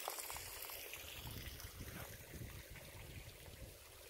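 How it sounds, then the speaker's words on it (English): A small creek crossing on the Devil's Slide Trail to Hidden Lake flows in a steady, soft trickle and gurgle, continuous and fairly faint, with no talking. "There's another little creek crossing down here."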